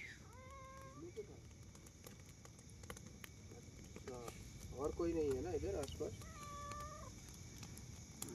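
A cat gives a couple of short, thin meows, one near the start and another near the end. They are faint against low background noise and scattered clicks, with some chatter in the middle.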